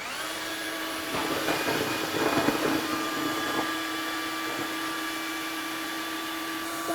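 A Mova K30 cordless wet dry vacuum runs steadily with a loud, high whine and tonal motor hum, with brief slurping and rattling as it picks up a mess partway through.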